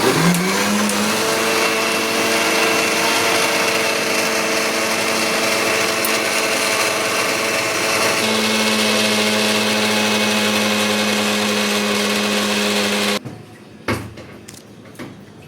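A blender grinds mango with sweetener and boiled-then-cooled milk into a thick paste for mango juice, running as a loud steady motor whine for about thirteen seconds with a pitch shift partway through, then cutting off before a few faint clinks.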